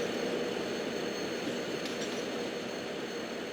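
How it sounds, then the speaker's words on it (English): A goods freight train in the MSTS train simulator on an Indian railway route gives a steady, loud, continuous rumble of rolling wagons with a faint squeal, no voices. "it looks like not a passenger train but a goods freight train"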